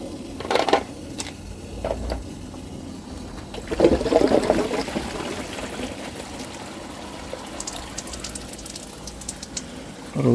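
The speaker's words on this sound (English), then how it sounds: "Got a leak somewhere." Water trickles and splashes from a leaking hose on a faulty UV filter, coming in irregular bursts of dribbling over a low background hum, close by and without speech.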